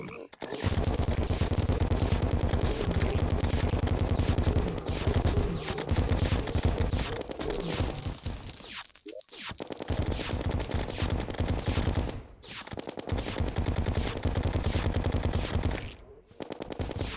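Rapid, continuous automatic fire from the Mega Shark gun shooting explosive bullets in Terraria, a loud dense stream of shots and blasts running almost unbroken with brief pauses.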